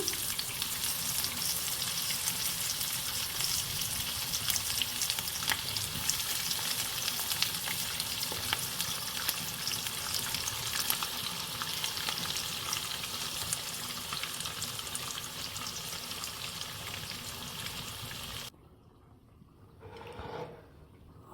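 Fish fillets rubbed with spice paste fry in hot oil in a pan with a steady, dense sizzle for most of the stretch, the sound dropping off sharply near the end, leaving quieter faint kitchen noise.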